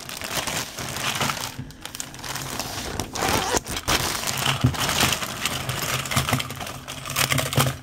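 A plastic Ziploc bag crinkles and crackles steadily as it is handled close up, with dense rustling that swells and dips over several seconds.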